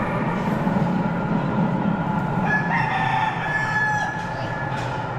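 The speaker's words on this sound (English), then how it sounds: "There's the rooster." A rooster crows from a distance over a steady, busy background murmur at Batu Caves, Kuala Lumpur, its drawn-out call rising and falling once.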